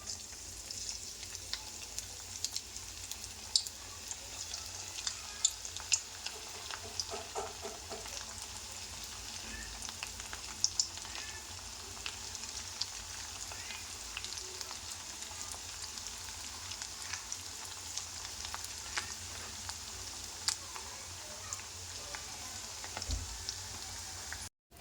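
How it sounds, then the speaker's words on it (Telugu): Chicken pakodi frying in hot oil, a continuous even sizzle with fine crackling pops lasting the whole stretch, close by and steady, with no one talking. "ఇప్పుడు మిగతా చికెన్ ఇది కూడా అదే విధంగా దాంట్లో వేసేసుకొని ఆయిల్లో వేసేసుకొని ఫ్రై చేసుకుందాం"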